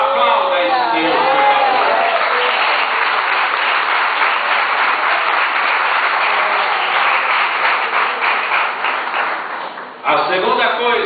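A church congregation at the Sunday night closing of a women's congress breaks into sustained, loud applause that fills the space evenly for about ten seconds before cutting off.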